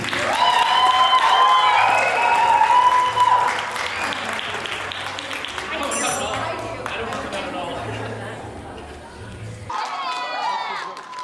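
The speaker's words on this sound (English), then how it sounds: "can you give them another big round of applause" A big round of applause for a newly married couple fills the wedding room, steady clapping from a large crowd with some cheering and voices, lasting around ten seconds.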